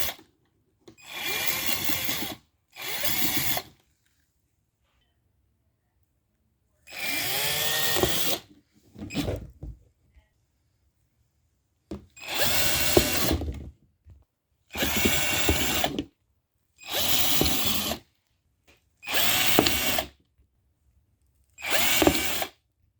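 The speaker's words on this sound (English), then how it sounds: "First, I got to drill some holes in this." A power drill whirs in repeated short bursts while drilling holes in a plastic container, about eight runs of a second or two each, separated by silences, close and fairly loud.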